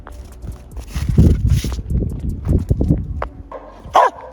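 A dog in winter runs around in circles by a camper van, its quick paws padding and scrabbling in uneven bursts close by, with a few brief yelps or whines toward the end.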